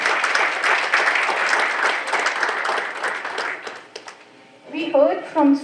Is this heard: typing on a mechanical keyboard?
no